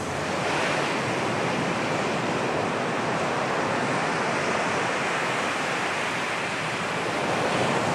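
Sea surf washing onto the shore at Luanda, Angola, a dense, continuous roar of breaking waves with windy hiss, loud and unbroken throughout.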